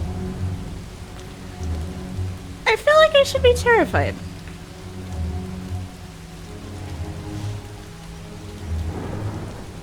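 Rain pattering steadily with thunder in the Far From Noise video game, a continuous wet hiss running the whole time while a person talks over it in a short burst near the middle.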